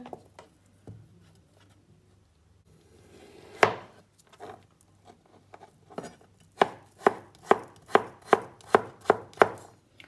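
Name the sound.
chopping potatoes finely with a knife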